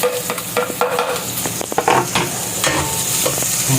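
Ginger sautéing in a pan for arroz caldo, a steady close sizzle with scraping stir strokes and clinks of a utensil against the pan, no voices.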